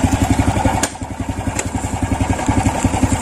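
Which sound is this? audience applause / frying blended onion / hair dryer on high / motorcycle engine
motorcycle engine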